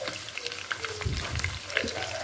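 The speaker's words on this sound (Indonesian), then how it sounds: "Ini saya goreng secukupnya ya" Chicken frying in hot oil for ayam goreng serundeng, a close, steady sizzle with bubbling, watery crackles.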